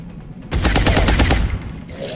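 Gunfire from the XCOM video game erupts suddenly after a quiet half-second, a loud rapid stream of shots rattling for about a second before trailing off into lingering echo.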